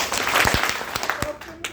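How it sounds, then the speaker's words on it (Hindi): An audience claps hands together in a short burst of sharp, uneven slaps, a few loud individual claps standing out as the clapping thins and fades. "मैं बोलूंगा ताली बजाओ, ठीक है?"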